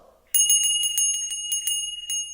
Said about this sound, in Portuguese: Será que o barulho desse sininho, ele é agudo ou grave?